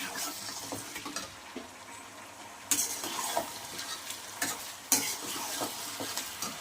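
Chicken curry with chicken masala and garam masala being stirred and fried in a pan, with a steady soft sizzle, repeated scraping strokes of a spatula and occasional louder clanks against the pan.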